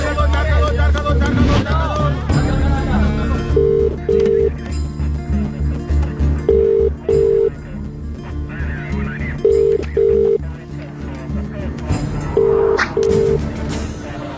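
Telephone dialing tones sound as evenly spaced pairs of short beeps, repeated several times at a steady rhythm under speech and a film soundtrack.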